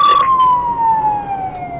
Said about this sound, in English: We'll have that unit reporting to his car to turn the siren off.